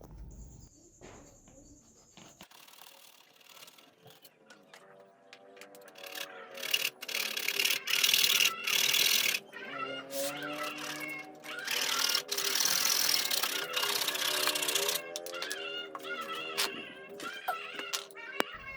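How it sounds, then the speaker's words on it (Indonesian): Rhythmic back-and-forth rasping of a hacksaw biting through the top of a car battery, close up, with strokes growing louder and steadier after a quieter start. "Kemudian kita potong kepala akinya menggunakan gergaji besi."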